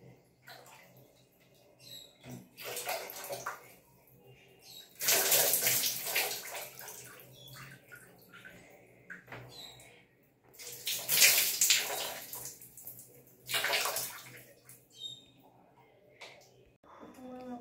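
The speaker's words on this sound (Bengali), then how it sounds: "বালতি জল নিয়ে নিয়ে মগ থেকে মাথা থেকে ঢালো" Water is poured from a mug over someone's head out of a bucket during a bath indoors, several separate splashing gushes of a few seconds each with quiet gaps between.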